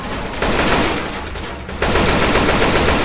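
Dense bursts of rapid gunfire from players shooting zombies in Left 4 Dead 2, loud and sustained, with a brief dip before another heavy volley.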